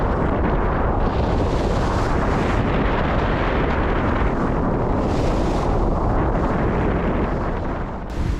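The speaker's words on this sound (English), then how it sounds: "We've got very good wind" Strong wind roaring across the microphone on a sailing boat crossing the English Channel in big waves, a loud continuous rushing buffet with surging gusts and no speech.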